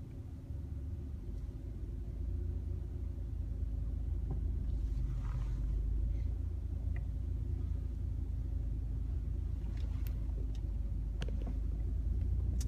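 A car pulls away during a driving lesson, its engine a steady low rumble that builds slightly and holds, close and continuous inside the cabin.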